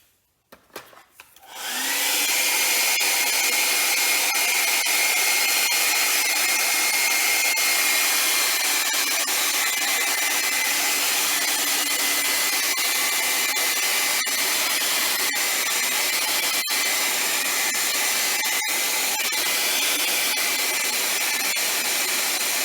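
A hair dryer blows steadily on a horse head painting, switching on after a brief quiet start and then holding a loud, unbroken whoosh up close for the rest of the stretch.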